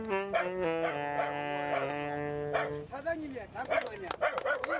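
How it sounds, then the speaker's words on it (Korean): A small dog howls in sustained tones along with a saxophone at a seafood market in Chungmu-dong, Busan. The saxophone's held notes and the dog's wavering howl overlap, followed by yips and barks. "이 연주 소리에 맞춰 돼지가 노래를 부르는 중이라네요."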